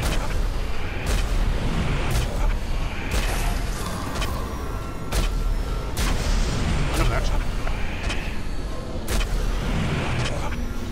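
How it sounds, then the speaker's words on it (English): Fire being shot in Middle Earth: Shadow of Mordor, heard as sharp booming blasts at roughly one-second intervals over a busy, rumbling game soundscape. "Just shooting fire."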